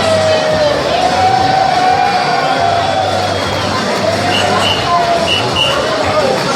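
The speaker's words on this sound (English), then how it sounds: "And the crowd goes wild." A live boxing crowd at Michael's Eighth Avenue cheers and shouts loudly in a continuous roar, with whoops and babble over a steady background din.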